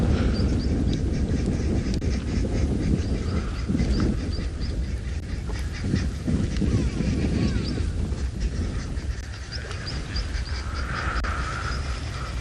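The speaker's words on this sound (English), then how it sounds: "These are arrow-marked babblers. They are very loud and noisy." Loud, harsh chattering calls from a group of arrow-marked babblers carry on continuously over wind noise outdoors in South Africa.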